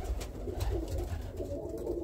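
Birmingham Roller pigeons in a breeding loft coo in low, steady rumbling calls, the soft murmurs overlapping continuously at close range.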